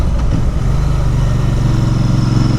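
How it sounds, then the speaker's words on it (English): An Interlayan 650 motorcycle with an aftermarket exhaust gives a loud, close, steady throb with an even, pulsing rhythm throughout. "Sounds good, that exhaust."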